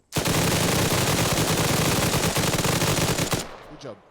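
Rapid, sustained gunfire from a firing squad in a video game, loud and dense for about three seconds before cutting off abruptly, with faint talk trailing after.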